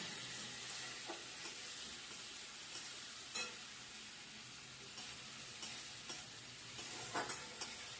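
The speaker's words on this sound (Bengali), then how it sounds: "প্রথমে পেঁয়াজ দিচ্ছি পেঁয়াজটা একটু লাল লাল ভাজা হবে" Onions fry in a pan for a kalbaus fish curry, giving a steady, fairly faint sizzle with scattered clicks and scrapes from stirring, and no voices.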